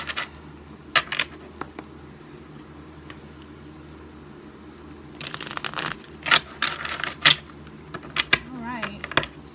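A tarot deck is shuffled and cut on a small table, with crisp card riffles and slaps in bursts, near and fairly loud in the second half, and a voice speaking softly in places.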